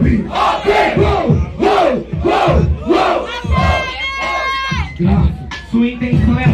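At a rap battle, the crowd shouts back in loud repeated bursts of yelling and cheering in response to a host, with a clear voice in between.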